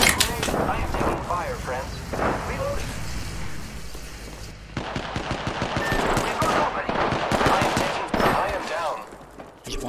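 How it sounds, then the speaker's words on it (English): Rapid automatic gunfire in Apex Legends, with dense bursts of shots rattling across the whole stretch, quieter in the opening half and heavier later, mixed with game effects and some speech. "I am taking fire, friends."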